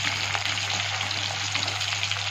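Onion frying in a pan gives a steady, even sizzle that stays fairly soft and close, with no voices over it.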